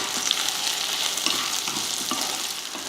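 Roasted peanuts sautéing in a pan for an idli and dosa chutney give a steady close sizzle with light scraping stirs and small crackles throughout, with no voices.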